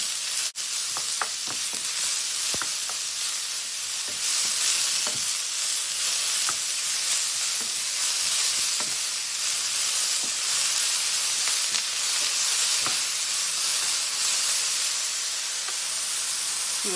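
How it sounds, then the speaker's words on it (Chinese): Sliced mushrooms are stir-fried quickly in a little oil in a wok, producing a constant loud sizzle with scattered clicks and scrapes of the spatula, close up and with no talking. "现在把这个蘑菇放进去， 很快的煸炒一下"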